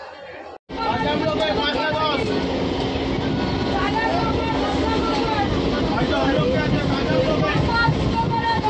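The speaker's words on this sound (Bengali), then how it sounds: "ট্রেন পেয়ে গেছি আমি।" A train rolls along with a loud, continuous rumble and rattle after a brief dropout near the start, while a crowd of passengers chatters and babbles around it.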